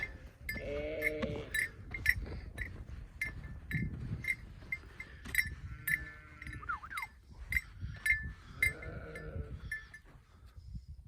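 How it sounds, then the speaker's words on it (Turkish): Sheep and their lambs bleat repeatedly in a pen, with several overlapping calls near and farther off, plus light clinks and bell-like taps from the flock; no talking. "Bu bizim e, kuzulu koyunlar"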